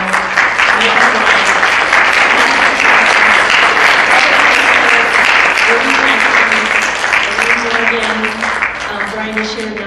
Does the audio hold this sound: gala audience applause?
yes